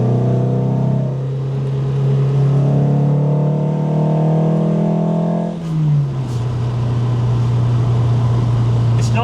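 A Lancia Fulvia engine holds a high, buzzing rev for several seconds, then the pitch drops sharply as it eases off, leaving a lower, steady drone.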